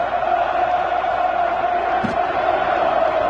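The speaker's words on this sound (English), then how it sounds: "you hear this crowd in full battle cry now" A packed football stadium crowd at the Mineirão roars in a sustained, dense wall of noise during a Brazil versus Argentina World Cup qualifier, steady and loud throughout with no break.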